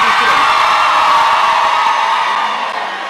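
University students at a Gambian campus event cheer and whoop as a crowd, a bright sustained roar that starts loud and slowly fades toward the end.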